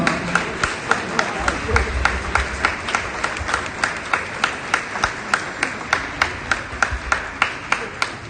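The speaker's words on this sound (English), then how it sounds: "Give round of applause." A crowd at an athletic banquet applauds with steady clapping, with sharp individual claps standing out in a regular rhythm and faint voices mixed underneath.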